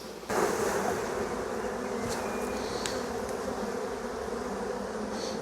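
Honey bees buzz loudly and continuously around an opened hive frame full of brood, a dense close-up drone with no voices.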